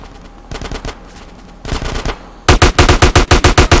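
AK rifle fire in the video game GTA San Andreas comes in loud, rapid automatic bursts: two short volleys, then a louder sustained string of evenly spaced shots, close and alone.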